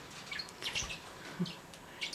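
Pet Bourke parakeets chirp indoors, with several short, high tweets scattered across a couple of seconds over a quiet room background, moderately close.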